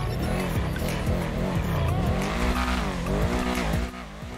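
A tuned car in GTA Online revs hard with rising and falling engine pitch while its tires squeal and skid repeatedly, loud and continuous, easing off slightly at the end.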